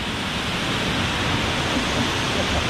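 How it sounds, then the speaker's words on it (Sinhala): Hulugaga waterfall in Kandy crashes down beside a bridge, making a dense, even roar of falling water with no breaks. "පාලමට මත්තෙන් මේ කඩාගෙන හැලෙන්නේ හුළුගඟ ඇල්ල"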